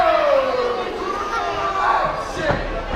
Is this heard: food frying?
no